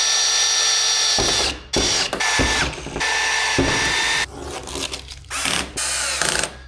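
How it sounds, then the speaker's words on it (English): A power drill whines loudly in several bursts, drilling holes for cab lights in a Chevrolet Squarebody Suburban, starting and stopping repeatedly with short pauses between runs. "Now I can drill 4 holes."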